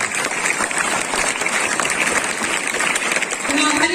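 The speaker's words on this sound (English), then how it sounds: "please again give our talented student with a huge round of applause" A large audience at a school oath-taking ceremony applauds a student's performance, steady and dense clapping that fills the whole stretch at a loud, even level.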